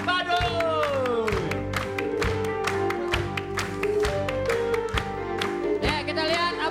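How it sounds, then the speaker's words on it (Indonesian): An audience at a comedy show gives applause with cheering, a steady rumble of clapping and whoops under music and a host's voice. "kita tepuk tangan buat Badoy"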